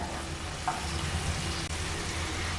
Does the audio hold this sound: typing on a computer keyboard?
no